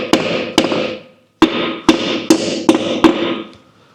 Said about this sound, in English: I like to tap them with a hammer